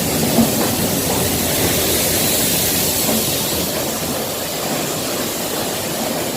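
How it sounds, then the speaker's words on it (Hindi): Lokmanya Tilak Express pulling into platform 1 at a railway station, a steady broadband rumble of the moving train filling the whole stretch at close range with no voices. "Lokmanya Tilak express 1 number platform पर पहुंच गई है"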